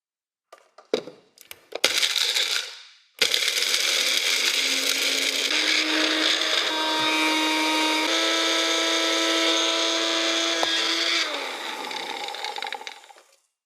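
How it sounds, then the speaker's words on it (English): A small blender grinds material into a fine powder, starting with a few sharp rattles and bursts before settling into a loud, continuous high whine with a shifting pitch that runs for about ten seconds and then cuts off. "I threw them all into a small blender. Then after that, I screwed the top on, and I ran it for several minutes"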